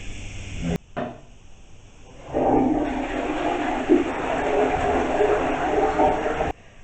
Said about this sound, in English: As you can see, we have a modern flushing toilet.